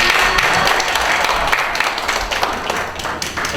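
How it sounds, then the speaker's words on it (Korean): A small audience at a community activists' discussion gathering in Korea applauds, a continuous wash of clapping at moderate level throughout, without clear speech on top. "박수."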